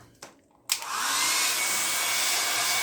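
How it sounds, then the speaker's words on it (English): After a few soft clicks, a hair dryer switches on and blows with a steady, loud, continuous whoosh up close, drying paint on a painting. "take my hair dryer and dry it"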